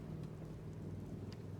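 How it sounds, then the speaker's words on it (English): Rain falls in foggy Far Harbor in the Fallout 4 video game, a soft, steady hiss over a low continuous rumble, quiet and unbroken throughout. "You see the fog. It's raining."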